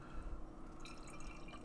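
Beer pouring into a tulip glass, a steady liquid splash and fizz close by, alone without voices.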